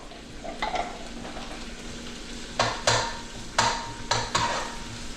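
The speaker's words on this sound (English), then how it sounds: "I'm gonna add this garlic to the pan" About five garlic cloves hit a hot pan with a faint sizzle, followed by several sharp scraping and stirring strokes against the pan, close and with no voices.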